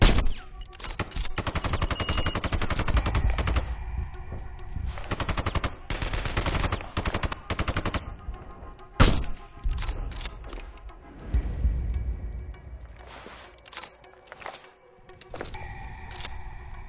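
Gunfire in the shooter game Sniper: Ghost Warrior 2, loud sustained bursts of automatic fire broken by short pauses, then scattered single shots and quieter sporadic firing toward the end.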